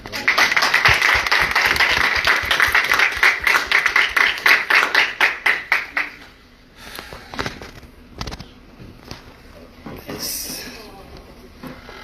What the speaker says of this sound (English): Do we have to take a round of applause for the International Women of Courage awardees?